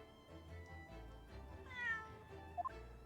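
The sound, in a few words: cat meowing in The Great Ace Attorney video game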